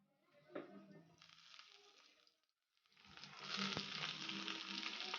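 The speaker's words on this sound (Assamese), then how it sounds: "এতিয়া মোৰ এয়া পিঁয়াজ জলকীয়া ভজা হৈ গৈছে। ইয়াত মই দি দিম ৰঙালাওখিনি।" Chopped onions and green chillies sizzle in hot oil in a pan, then fall quiet for a moment before pieces of taro go in and a louder, dense frying hiss rises. The sound is close, with no talking.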